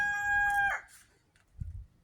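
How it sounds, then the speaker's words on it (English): A single rooster crow rings out loud and close, followed by a brief low rumble. "And Rooster says it's time to wake up."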